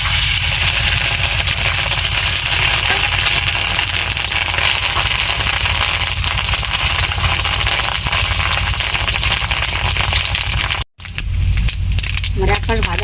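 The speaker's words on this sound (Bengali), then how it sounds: "তেলটা গরম হয়ে গেছে, এবার ডিমটা আমি পুরোটা একসঙ্গে দিয়ে দেবো" Fish roe frying in hot oil in a pan, a loud, dense, continuous sizzle and crackle that cuts out briefly near the end and then resumes more thinly, with a voice heard over it.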